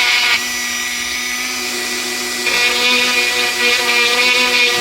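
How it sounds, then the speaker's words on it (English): A power tool grinds a stud down past plastic during a customization job, a loud steady high-pitched whine that holds for several seconds with a slight shift in pitch partway through, with no talking. "be able to just use this head to grind that stud off"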